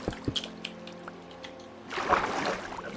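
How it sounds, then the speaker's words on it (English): Water flowing from a placed source block in Minecraft, a soft rushing pour that swells in after a few quiet clicks and carries on steadily to the end. "Made a water source block, that sucks."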